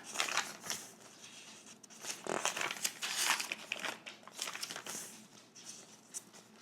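Washi tape crinkles and tears in short, close, soft bursts while a Hobonichi Cousin planner is decorated, with no talking.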